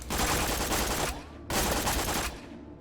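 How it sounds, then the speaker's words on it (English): Rapid bursts from the Lascaux gun in the video game Borderlands 2: two loud, dense strings of shots, each about a second long, separated by a brief pause, with no talk. "Special effect is that it shoots anywhere from 10 to 15 bullets in a burst."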